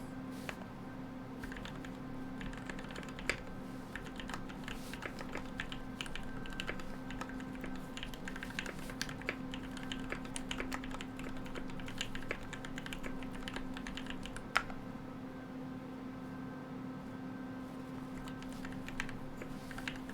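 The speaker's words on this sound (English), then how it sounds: "I'm going to do some 10 fast fingers" Fast, continuous clicking from a computer keyboard during a typing speed test, light crisp keystrokes at a quick steady rhythm with no talking.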